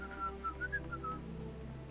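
A short run of whistles, about six clipped tones rising and falling, sounds from units in the Warlock 2 strategy game over a low steady hum.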